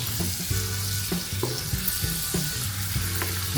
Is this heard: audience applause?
no